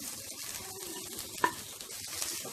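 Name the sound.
stirring cooked foxtail millet rice with amla paste in pan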